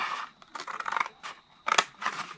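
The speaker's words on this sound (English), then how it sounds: "we're going to cut up to the 2nd score line" Scissors cut through cardstock in a handful of close, crisp snips, with short irregular gaps between the cuts.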